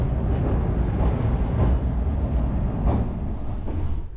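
An ordinary Pakistani sleeper express train running at speed on rails, a steady close rumble of the carriage with faint rhythmic clacks, no voices.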